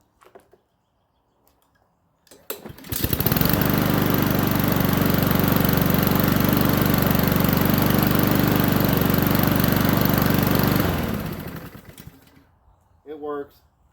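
A Troy-Bilt push mower with a Honda GCV160 engine starts with a quick pull and runs at a loud, steady roar for about eight seconds before winding down and stopping, with brief talk before and after.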